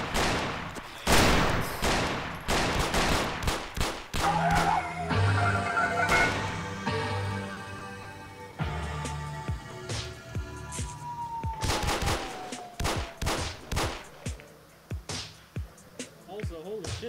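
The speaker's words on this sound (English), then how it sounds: "I'm gonna fire off my sidearm." Sidearm gunfire in the video game Arma 3 during a multiplayer operation, sharp pistol shots fired one after another in bursts among other battle noise, with voices talking over the action.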